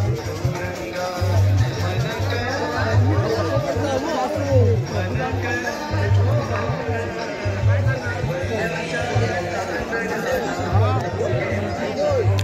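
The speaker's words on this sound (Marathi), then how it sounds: "गर्दी बऱ्यापैकी चांगलीच असं गर्दी" Dense, steady crowd chatter fills an evening village temple fair (jatra) honouring the goddess Shri Devi Chondeshwari in Girye, with many overlapping voices and a low, rhythmic thumping pulse underneath throughout.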